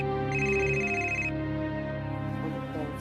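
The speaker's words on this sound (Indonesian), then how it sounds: "Telepon." Telephone ringing, a loud electronic ringtone with a bright trilling burst at first, then a steady tonal melody filling the whole clip with no talk.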